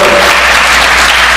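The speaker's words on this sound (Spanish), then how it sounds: "Démosle un fuerte aplauso al doctor Barsi" Loud, steady clapping from a crowd at a law convention, a thick uniform burst of applause filling the brief moment.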